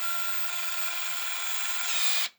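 A power drill runs at low speed driving a Uniweld UDFT flaring tool, a steady continuous whine with a hissy grinding edge that holds evenly and rises slightly before stopping abruptly, close and loud.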